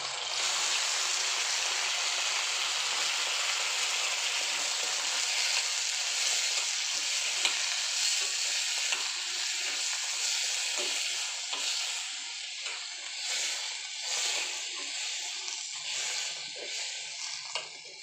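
Onions and three large tomatoes sizzle steadily in a hot pan, a continuous bright frying hiss that holds level throughout with occasional stirring scrapes, preparing a base for a fish curry; no talking.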